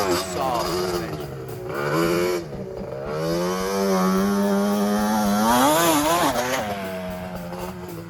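Two-stroke Yamaha Banshee ATV engine revving up into its power band, a buzzing, rising wail that climbs in pitch and dips again, loud and close with rushing wind noise.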